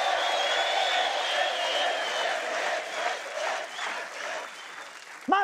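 A Colombian TV comedy show's studio audience gives sustained applause mixed with crowd cheering, loud and continuous, then easing slightly before a voice starts speaking at the very end.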